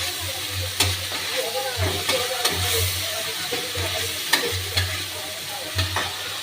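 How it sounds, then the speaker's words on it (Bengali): Prawns crackle and sizzle steadily in a hot pan while being stir-fried, with repeated scraping strokes of a spatula and a low background hum throughout. "চিংড়ি মাছটা দিয়ে আমি একটু ভালো করে কষে নেব"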